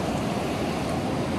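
Fast-flowing water of a big river, a steady broadband rush and churn that fills the whole clip at close range with no voices.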